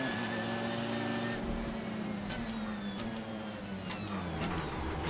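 Race car in the video game Assetto Corsa, its engine pitch sliding steadily downward as it slows under hard braking, a loud continuous drone with faint clicks along the way and no talk.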